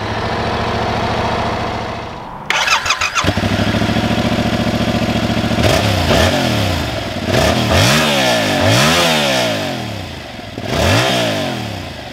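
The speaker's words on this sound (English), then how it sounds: "we can turn the fuel on, you'll hear the system prime, and then we can just fire it up by pressing the button" A 2022-2023 Yamaha YZF R7 motorcycle: a steady hum as the fuel system primes, then the engine cranks, fires up and settles into a loud, close idle with a few sharp revs.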